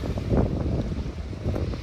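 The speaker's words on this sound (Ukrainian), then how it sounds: "почався такий штормовий прям вітерець, хвилі з'явилися" Stormy wind gusts across open water, buffeting the microphone in rough bursts over the wash of choppy waves on a river, loud and close, with no voices.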